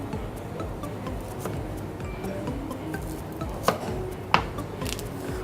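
Knife cutting down either side of the heart of a fennel bulb on a board, quiet crisp slicing with two sharper taps near the end over a low kitchen background.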